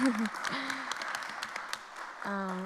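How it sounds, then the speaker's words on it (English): Brief applause for teachers and staff at a school committee meeting, with scattered claps beneath speaking voices and a sustained tone at the end. "round of applause"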